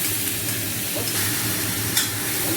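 Onions sizzle steadily in a pan for a chicken curry, a soft continuous crackle with occasional light stirring scrapes, close and unaccompanied by talk.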